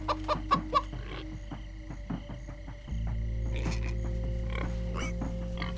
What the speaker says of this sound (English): I hate it when chickens sneak up on me like that.